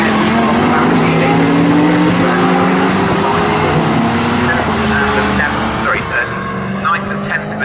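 A Porsche and a Lamborghini GT race car race at Snetterton, their engines droning loud and continuous with shifting pitch as they pass, while commentary runs over the top.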